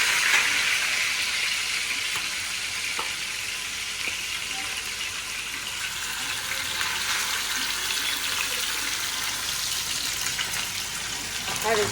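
Fresh fish fries in a home kitchen pan, a loud, even hiss of hot oil that runs unbroken and close throughout, with no talking.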